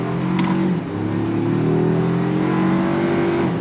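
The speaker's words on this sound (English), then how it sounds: "We're gonna go ahead and get on throttle." A 2025 Toyota 4Runner XP midsize SUV with all-wheel drive pulls away on throttle, its engine drone climbing steadily in pitch as the vehicle speeds up, loud and close and heard from inside the cabin.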